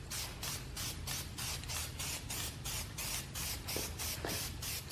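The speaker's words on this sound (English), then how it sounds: "I have some self-etching primer here that I'm gonna just spray on all this exposed metal area before I paint" Self-etching primer hisses from a spray can onto exposed car body metal in a steady series of short, even bursts, close and alone with no talking.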